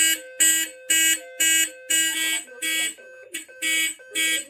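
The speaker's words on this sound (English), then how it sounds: "The signal you have just heard indicates a report of a fire in this building." A building fire alarm sounds during a heat-detector system test, its loud, tonal signal cutting in and out in a quick, regular pulse of about eight bursts, each with brief quiet gaps between.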